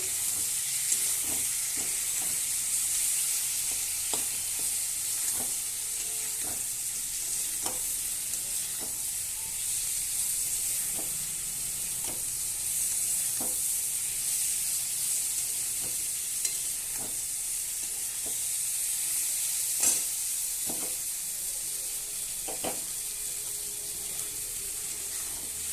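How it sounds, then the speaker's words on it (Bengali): Spices with ginger-garlic paste frying in a pan give a steady, loud sizzle for the whole stretch, while a utensil stirs with repeated scrapes and taps close by. "এবার আমি নেড়ে দেবো।"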